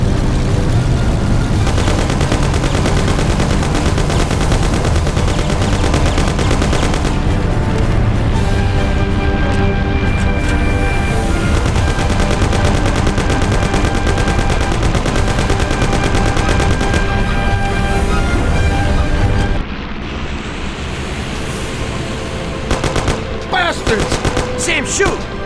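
Sustained gunfire in the classic Mafia video game, loud rattling bursts of automatic fire layered with rumbling engine noise for about twenty seconds before thinning out, with voices shouting over it.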